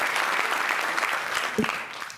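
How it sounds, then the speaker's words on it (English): A crowd applauding steadily, dense clapping that holds throughout and eases off slightly near the end. "Please give her a round of applause"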